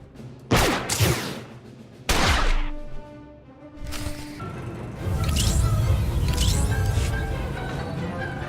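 Blaster gunfire erupts in a Star Wars firefight on Nar Shaddaa, with sharp, loud shots punctuating the first seconds and then a rolling, sustained barrage of overlapping fire and zips.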